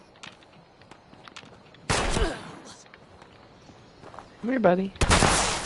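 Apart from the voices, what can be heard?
pipe rifle gunshots in a video game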